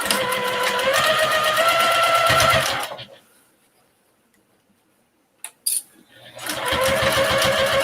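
A sewing machine stitches a narrow 1/8-inch seam along the edge and pocket of a shopping bag, running in two steady, close bursts of rapid mechanical ticking separated by a quiet pause and a brief clatter.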